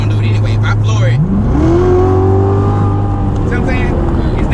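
A C7 Corvette Z06 at full throttle, its engine note climbing steeply and holding a loud, strained pitch, with a voice talking over the roar from inside the car.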